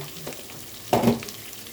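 Spices and tomato hitting a hot pan for a light pasta, a sudden loud burst of sizzling near the middle that fades quickly after a quieter stretch of low kitchen noise.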